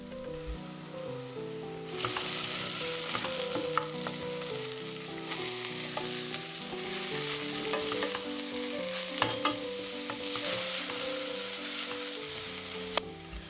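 Coarsely grated carrots sauteing in olive oil for chicken soup, a steady close sizzle with occasional stirring clicks and scrapes, under quiet background music.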